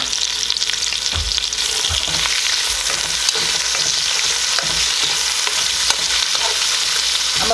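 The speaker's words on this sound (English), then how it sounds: "I'm gonna put the green onions and the garlic in at the same time." Green onions and garlic sauté in a hot pan with peppers, giving a loud, continuous sizzle broken by occasional stirring scrapes and clatters, with no voice.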